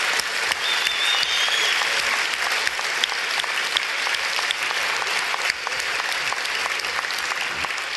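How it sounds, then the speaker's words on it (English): A large audience at an onstage conversation with Richard Dawkins and Neil deGrasse Tyson breaks into sustained, dense applause that stays loud and even throughout. "Please, another round of applause for Professor Dawkins and Dr. Tyson."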